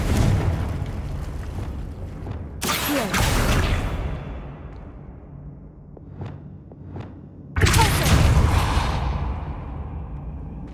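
Confringo, a fiery blasting spell, is cast in Hogwarts Legacy, two loud whooshing bursts that bloom into booming explosions with rumbling decay and scattered crackles between them.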